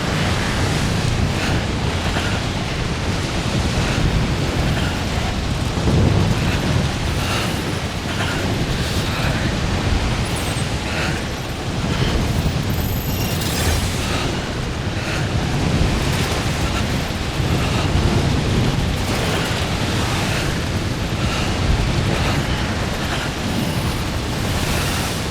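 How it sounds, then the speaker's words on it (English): Wind blows steadily across open terrain in Death Stranding, a dense continuous rushing roar with gusty swells that stays loud for the whole stretch, with no voices over it. "Just a bit of wind."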